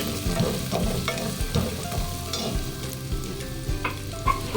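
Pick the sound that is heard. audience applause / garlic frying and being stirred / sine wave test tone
garlic frying and being stirred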